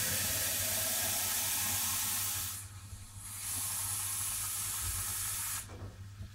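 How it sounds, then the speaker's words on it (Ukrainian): Plain water pours steadily into a bottle with a loud, close hissing rush. The stream dips briefly in the middle, resumes, then thins out near the end. "И наливаем простой воды."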